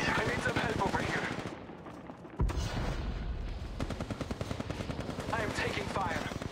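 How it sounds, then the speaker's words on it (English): Rapid automatic gunfire in Apex Legends Mobile crackles in dense bursts, briefly pausing before resuming loud and close, with a voice speaking over part of it. "I am taking fire."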